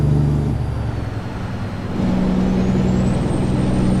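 A Freightliner Coronado truck engine in Euro Truck Simulator 2 drones steadily at a low idle, dipping briefly then rising again with a deeper rumble, with a faint high whine above.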